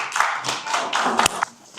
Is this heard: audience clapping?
yes